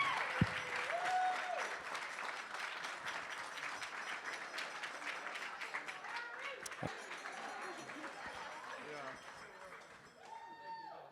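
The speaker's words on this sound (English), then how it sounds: "Come on, let's give Harrison a big round of applause" Wedding reception guests give a hearty round of applause, dense clapping with a few cheers and whoops, gradually thinning toward the end as voices begin to come through.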